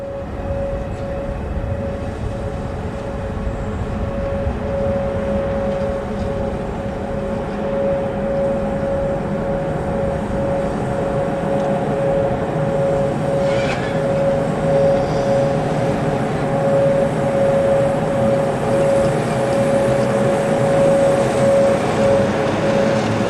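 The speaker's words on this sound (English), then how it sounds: "This is the first member of the class passing the reception sidings on a northbound freight." Class 1014 locomotive hauling a northbound freight train past reception sidings at a rail yard, a steady, loud rumble of engine and rolling wagons throughout with a sustained whining tone.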